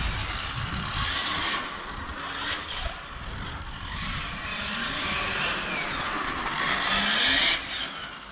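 A Serpent Viper 989E RC touring car runs on an asphalt track, its electric motor whining steadily with rising and falling pitch and light tire noise, continuous and fairly close, no talk.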